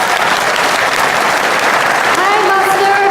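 A conference audience gives a warm round of applause to welcome a speaker joining by video link, the dense, loud clapping continuing throughout, with a voice briefly heard over it near the end.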